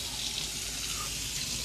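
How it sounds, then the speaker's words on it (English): Cold tap water runs steadily into a kitchen sink while fish fillets are rinsed, a soft continuous rushing hiss close to the microphone, with no talk. "I'm gonna run cold water back over it"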